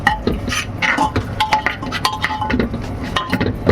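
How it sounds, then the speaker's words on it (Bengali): Masala with turmeric, salt and cumin powder is stirred in a pan, giving steady close clinks and scrapes. A metal spoon knocks rhythmically against the pan with faint sizzling underneath. "এরপর নুন, জিরে গুঁড়ো দিয়ে ভালো করে মশলাটা নেড়ে নেব যাতে কোনোভাবে তলায় না লেগে যায়"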